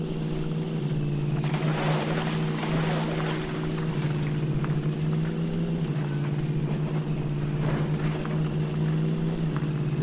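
Truck engine in Spintires: Mudrunner on a mod map, droning steadily and loud while slogging through mud, its pitch shifting as it climbs into higher gears, with a continuous low rumble and no talk.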